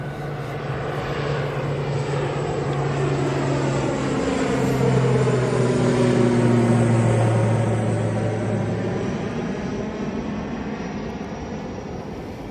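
A Loganair ATR 42 turboprop departs Manchester Airport bound for Inverness. Its steady propeller and engine drone swells as it passes nearby, with sliding, shifting tones, then slowly fades.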